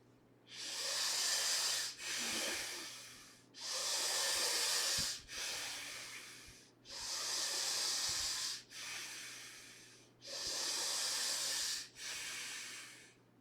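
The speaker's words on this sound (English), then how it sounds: "You start breathing both from the belly and the chest, the long, deep, and the hissing breath." Long, deep hissing breaths during meditation, drawn through the belly and chest: four loud, airy cycles, each a sustained hiss split into two phases with short gaps between, close and alone over a low hum.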